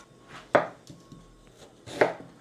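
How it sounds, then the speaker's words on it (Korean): Knife chopping vegetables on a cutting board while preparing an oyster soup, two distinct sharp chops about one and a half seconds apart with faint softer taps between, close and clear, no talk. "그동안 이제 이걸 썰어야지. 야채를"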